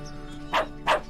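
Two quick barks from a dog in the farming game World's Dawn, evenly spaced and close, over a soft steady game background.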